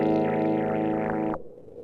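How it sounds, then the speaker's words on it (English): Electric guitar run through a filter whose cutoff is driven by a VU meter's envelope follower, giving a sustained, buzzy, effected tone that sweeps and wobbles before cutting off sharply. "the guitar itself controls the cutoff."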